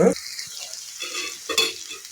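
Tomatoes and spices for a bitter gourd palya fry softly in a pan, a faint steady sizzle with a couple of light stirring scrapes over a brief moment.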